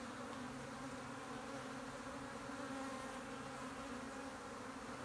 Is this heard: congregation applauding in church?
no